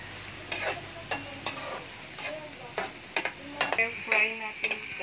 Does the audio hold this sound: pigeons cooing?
no